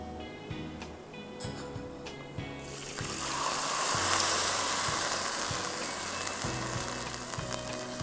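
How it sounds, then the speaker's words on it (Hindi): Vermicelli sizzles and crackles as it roasts in a pan, then a rushing wash of liquid as milk is poured in, rising and settling into a softer bubbling hiss. "दो मिनट इसको आपको भूनना है और इसमें 1 लीटर दूध डालना है।"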